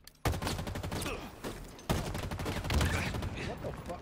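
Halo Infinite multiplayer on the Bazaar map: rapid bursts of automatic gunfire crackle almost continuously, two dense volleys with a brief lull between, loud and close, with some game noise layered in.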